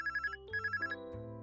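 A phone in the Anime Studio Simulator video game rings with a bright electronic tone, two quick bursts of repeated trills followed by a shorter chirp, close and clear with no talking.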